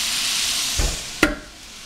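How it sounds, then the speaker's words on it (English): Onions and garlic sautéing in a pan, a soft continuous sizzle broken by two quick scrapes or knocks of a utensil, with no talking. "you're going to want to saute the onions and garlic until they're browning and or translucent"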